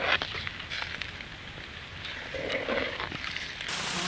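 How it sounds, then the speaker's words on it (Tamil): Rain falls outdoors at night in a village while a country chicken rasam is cooked, a steady hissing patter with scattered louder drops, moderately faint and continuous, without voices. "நினைச்ச மாதிரியே மழை வந்துருச்சு"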